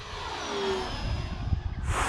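FMS T-28 Trojan 1.4 m RC plane engine running at full throttle, a steady droning whine passing overhead with a faint shift in pitch, fairly distant over outdoor wind noise.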